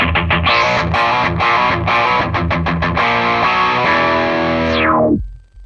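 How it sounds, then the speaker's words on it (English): Distorted electric guitar chords played through a synth in a choppy rhythm, the tone sweeping as an expression-pedal-controlled filter closes before the sound cuts off abruptly. "The filter can be controlled not only by the random generator or an LFO, but also by an expression pedal"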